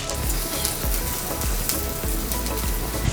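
Ginger sizzles steadily as it fries in hot coconut oil in a pan, prepared for Kerala ginger pachadi; the dense, close crackle and spitting stay constant and fairly loud throughout, with no talking.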